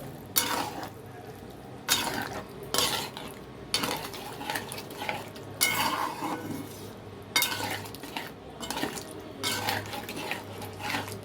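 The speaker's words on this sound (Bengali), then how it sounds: "জল দিয়ে নেড়ে চেড়ে নিয়ে" A vegetarian cauliflower curry is stirred in a pot after water goes in: repeated scraping and clinking of a spoon against the pan over a soft bubbling sizzle, in bursts separated by brief pauses.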